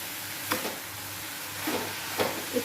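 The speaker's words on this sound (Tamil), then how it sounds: "இப்போ தேங்காவை போட்டுடலாம். வதக்கிட்டோம், தேங்காவை போட்டு உதிரியாக தான் நம்ம அரைச்சிக்கிறோம். நல்லா வதக்கணும்." Cluster beans and grated coconut are stirred in a hot pan, with a soft continuous sizzle and a few scraping strokes of a spatula at a moderate distance, without any voices.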